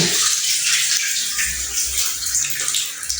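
Leftover water keeps running from an indoor water pump line after the pump's switch is turned off, a steady splashing, rushing flow close by that continues alone without pause.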